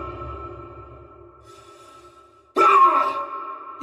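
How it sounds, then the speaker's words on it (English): Layered breathing from the Dead Space remake, a steady male breath cycle with a loud, sharp exertion grunt from a melee or stomp bursting in near the end over the ongoing breathing, close and dry. "Exertions, such as melee and stomp, also played over top of the breathing rather than interrupt it."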